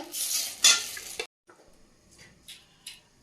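Dried red chillies and bay leaves dropped into hot oil crackle in a loud, bright sizzle for just over a second, then cut off, leaving faint clinks and stirring sounds.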